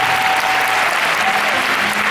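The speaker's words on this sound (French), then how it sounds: "je vous demande d'applaudir très très fort" Steady, dense applause from a concert audience, filling the whole stretch at an even, loud level with no pauses.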